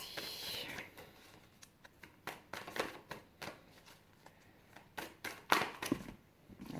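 A deck of cards being shuffled and cut during an astrology card reading, heard as close, soft papery riffles and taps in an irregular rhythm with a few sharper snaps, quiet and alone without talk.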